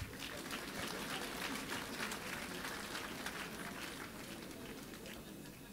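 Quiet applause from a church or conference audience, a continuous soft patter of many clapping hands heard from a distance, with low voices faintly mixed in and the sound easing slightly toward the end.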